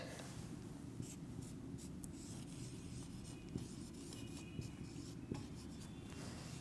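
A word being written on a classroom board, a faint continuous scratching and rubbing of the writing tool across the surface with a few light taps, quiet over low room noise and no talk.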